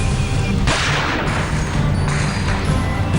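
Several loud sharp bangs of gunfire from an encounter with terrorists in Poonch sector, irregularly spaced over a steady noisy background.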